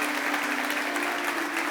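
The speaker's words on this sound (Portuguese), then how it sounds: "Você pode aplaudir Jesus?" Steady applause from an audience at a church service, a dense, even clapping wash held at moderate level from start to finish with no voices over it.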